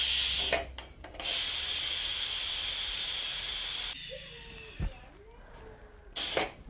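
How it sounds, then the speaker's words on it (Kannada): A pressure cooker cooking rice at home lets out a loud, sustained steam hiss for several seconds, then drops to a quieter background with brief voices and short bursts of hiss. "Cooker vigil ಹೊಡ್ಸ್ರಿ."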